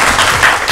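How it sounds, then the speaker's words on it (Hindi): Short, loud burst of clapping from a group of friends in a Pakistani drama scene, welcoming a birthday gift, dense and close. "तालियां बजाई भाई"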